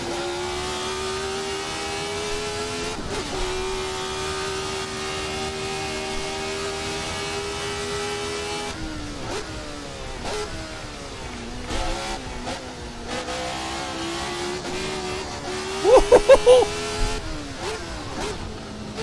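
A 1970s Formula 1 car in a sim racing game, its engine holding a steady high drone with harmonic layers, then surging through gear changes and sharp blips of revving near the end, close and continuous.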